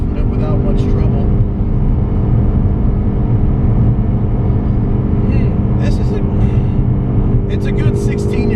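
A 2015 Ford Mustang EcoBoost driven hard on a race track, its engine a loud, steady, close drone from the cabin, with a voice talking over it.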